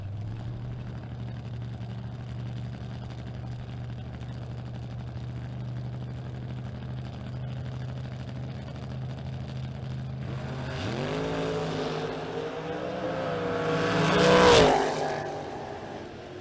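A 1968 Camaro and a 1967 Chevy Deuce at a drag strip: a long idling rumble, then engines rev and launch, climbing in pitch and roaring louder as they pass close by before fading.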